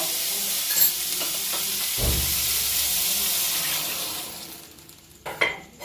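Small pumpkin pieces simmering with milk in a pan, a soft steady sizzle and bubbling with a clatter of stirring midway and a few sharper knocks near the end, no voices.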